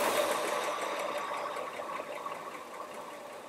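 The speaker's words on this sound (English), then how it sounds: "That's a 216 cubic inch engine, original engine, and it runs good." A 1949 Chevrolet 3100 five-window pickup's original 216 cubic inch engine idles steadily with a fast, even ticking clatter, heard at moderate distance.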